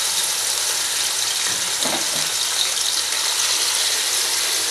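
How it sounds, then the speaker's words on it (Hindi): Beef pieces frying in oil for namkeen gosht, a steady dense sizzle with a brief louder crackle near the middle, no voices. "गोश्त जो है वो हमने बीफ का यूज़ किया है, तो अब हम इसे 10 to 15 मिनट तक फ्राई करेंगे।"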